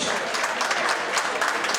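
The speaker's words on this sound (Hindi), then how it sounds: "जोरदार तालियों के बीच" Loud, dense applause from an audience at a Mewar Mitra Mandal Maharana Pratap Jayanti gathering in Mulund, Mumbai, a continuous burst of many clapping hands.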